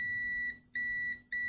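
A multimeter in continuity mode beeps, a shrill electronic tone in two sustained bursts separated by a brief gap, loud and close, with no talking.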